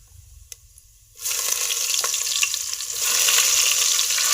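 Green garlic hits hot spiced oil for dhokla tempering, breaking into a loud, steady sizzle after a quiet start, with stirring clatter over the frying and the hiss swelling louder near the end; no talk.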